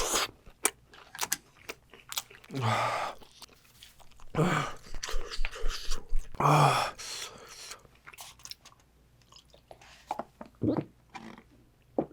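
Close, wet chewing and biting of spicy cheese tteokbokki Korean rice cakes, in mukbang style, with soft crunches and mouth sounds coming in uneven bursts. There is no talk over the eating.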